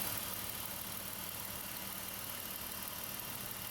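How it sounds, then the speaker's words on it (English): A BMW E46 engine idles steadily with the air conditioning and cooling fan running, a continuous low hum and broadband fan whoosh held at an even, moderate level throughout. "I started up the engine and turned on the AC."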